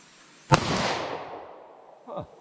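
A single loud shot from a snub nose revolver fired single action at an outdoor range from 40 yards, a sharp crack with a long decaying echo, followed by a brief faint voice.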